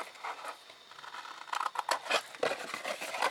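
Sharp scissors snip through card being cut for a gift box, a quick series of crisp close cuts in an uneven rhythm, with no voices.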